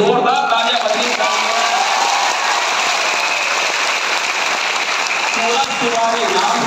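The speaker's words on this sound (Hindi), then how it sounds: "दशरथ मांझी के लिए जोरदार तालियां बजाएं" Loud, sustained applause from a large crowd in a hall, a continuous wash of clapping with cheering mixed in, steady throughout with a slight dip near the end.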